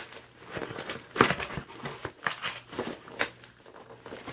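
Packaging tape and cardboard being torn and crinkled while opening a well-taped box, heard up close as irregular scraping rips and crackles, with a sharper tearing burst partway through and no talking.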